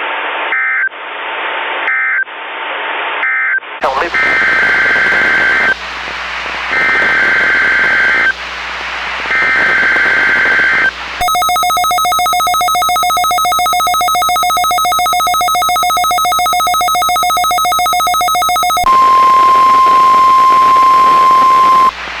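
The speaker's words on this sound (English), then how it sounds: "This is a test of the emergency alert system and NOAA Weather Radio's warning alarm." Southern Nevada Emergency Alert System weekly test: repeated harsh digital data bursts, then a long loud steady dual-tone warning alarm, followed by a single sustained NOAA Weather Radio tone over static, with no speech.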